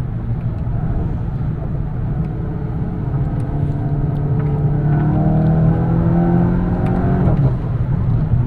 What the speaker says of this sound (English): when I say fast, right, this is a fast